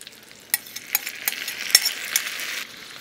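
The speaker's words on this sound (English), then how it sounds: "And we'll stir that around, get everything everywhere in the bottom of the pan." Tomatoes are stirred into a skillet of spaghetti and meatballs cooked from a 1941 recipe, with a spoon scraping the pan bottom in a quick run of close, uneven strokes over a bright sizzle.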